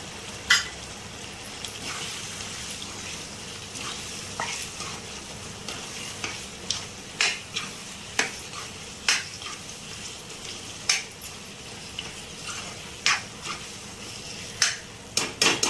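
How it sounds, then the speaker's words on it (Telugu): Chicken pieces sizzle steadily in hot oil with coriander powder in an Andhra-style gravy, while a spoon scrapes and taps the pan in irregular sharp clicks, fairly quiet and close. "అట్లా నూనెలో కొంచెం వేగాలి బాగా ముక్క"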